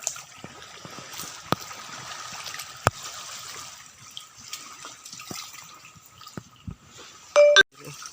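Water trickles and laps at a sea shore, a faint steady wash dotted with small clicks and splashes, followed by a brief louder burst near the end.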